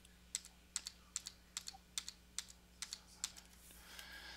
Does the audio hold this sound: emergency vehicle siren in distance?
no